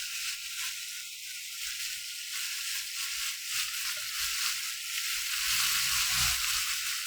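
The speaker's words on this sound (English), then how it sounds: "So this is 대패 삼겹살. First you stir fry." Thin slices of pork belly, daepae samgyeopsal, stir-frying in a hot pan, giving a steady bright sizzle with occasional soft scraping and stirring bumps, heard alone.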